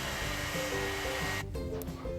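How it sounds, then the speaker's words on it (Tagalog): A hair dryer blows on someone's hair at home, a continuous loud whooshing drone with a brief dip in airflow midway, close and steady, no talk. "Tapos, blower ng buhok ni Aniela, ng buhok ko."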